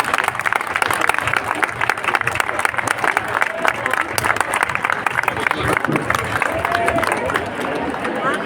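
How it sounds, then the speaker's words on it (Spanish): A crowd at the Noalejo town festival, 2023, applauds a proclamation speaker with sustained dense clapping throughout, and voices murmur underneath. "Un aplauso, gracias."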